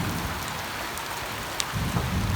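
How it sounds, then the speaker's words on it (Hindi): Heavy rain pours steadily in a broad unbroken hiss, with low rumbling thunder swelling near the end and a brief sharp crack partway through; no voices. "बारिश लगी दी है फुल फुल बारिश लगी दी है"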